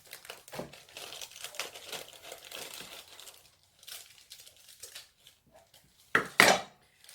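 A cake mix bag for red velvet cookies is cut open and emptied into a bowl: soft, close crinkling of the packaging, then a brief louder rustle and pour near the end.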